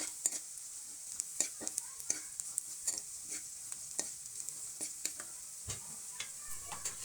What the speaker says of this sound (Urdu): ہلکا سا پیاز جو ہے نا اسی کو ہم نے فرائی کرنا ہے